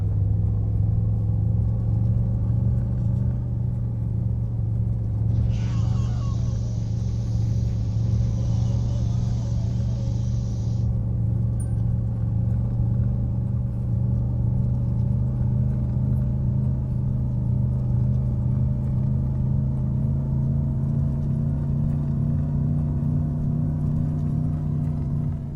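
Steady low engine drone of a car in My Summer Car, set in Australia, running continuously at an even loud level with a brief hissy burst partway through; no talk.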